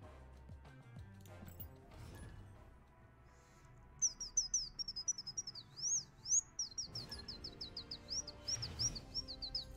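A person imitates a bird call with rapid, high-pitched whistled chirps in a series of short repeated bursts, fairly faint, over quiet background noise.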